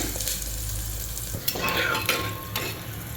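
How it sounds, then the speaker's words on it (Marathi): Mutton fat melting into fried onions in a pan, a close continuous sizzle with a few clinks and stirring scrapes of a utensil against the pan, no talking. "छान चरबी वितळती आता त्याच्यामध्ये।"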